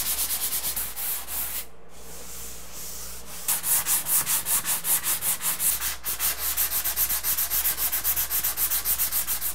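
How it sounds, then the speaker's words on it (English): Patches on a stairwell storage area renovation being hand sanded with 220 grit sandpaper, a loud close rhythmic scraping that speeds into quick regular back-and-forth strokes after a brief pause, with no talking. "just give it a quick little sand"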